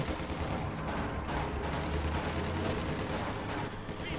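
Machine-gun fire from an MG42 in a World War II strategy game, with dense, continuous bursts of gunfire and battle noise running loudly throughout.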